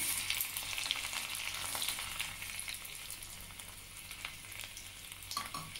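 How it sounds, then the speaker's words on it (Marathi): Garlic fries with cumin in hot oil for tempering, a soft, continuous crackle and sizzle with light stirring, fairly faint and heard without any talk. "लसूणला आपण छान गुलाबी रंगाचा होईस्तोपर्यंत छान फ्राय करून घेऊया।"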